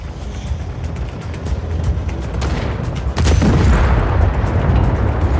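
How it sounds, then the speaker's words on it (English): Explosions and gunfire roar in the video game Just Cause 4 during an assault on a heavily armored train: a constant low rumble, then a loud, close blast midway that leaves a heavier roar behind it. "The explosion, the gunfire, it's unnerving."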